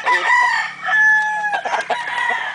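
Fighting rooster stag at a cockfighting setting in Caoayan, Ilocos Sur, crowing close and loud in a few strained, drawn-out calls with brief clucks between them.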